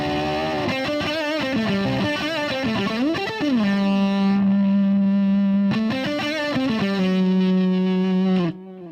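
Electric guitar on the neck pickup driven through a TC Electronic Dark Matter distortion pedal, playing a fuzzy riff with a bend that settles into a long sustained distorted note, restruck once before cutting off, loud and alone.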